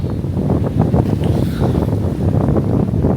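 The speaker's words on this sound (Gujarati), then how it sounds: "પવન બહુ છે એટલે સોરી મોબાઈલ કેમેરો કપડેલા" Steady, heavy wind buffeting a phone microphone, a constant low rumble and roar throughout with no talking.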